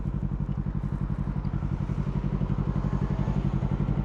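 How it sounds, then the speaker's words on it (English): Steady motorcycle engine rumbling while riding through Shibuya, Tokyo, at night, a close, even chugging pulse with light rattling and no talk. "I'm driving a bike, so that's cool, I guess."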